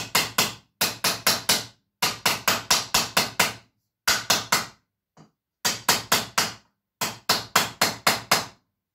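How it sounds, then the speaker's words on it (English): A small steel shrinking hammer strikes a full steel Gjermundbu Viking helmet in quick bursts of four to six ringing blows, separated by short pauses, loud and close with no voices. "take this smaller hammer, shrinking hammer, and work around the wave a little bit"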